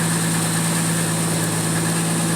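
A 1974 Plymouth Duster's engine idles close by with a steady, even drone and a constant low hum throughout the short stretch, with no talking.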